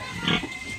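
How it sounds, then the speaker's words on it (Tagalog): A restless, hungry Landrace gilt pig on a farm gives a short grunting squeal in the middle of the moment, with softer snorts around it, close by and moderately loud. "So maligalig lang guys ang aking baboy inahin na to."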